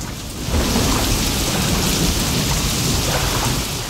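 Steady heavy rain with rumbling thunder in the King Kong video game, a dense continuous downpour that swells in after a brief quieter start and holds loud throughout.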